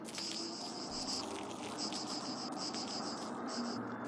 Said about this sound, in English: They're like little crickets.